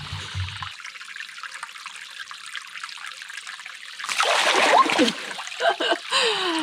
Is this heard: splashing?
yes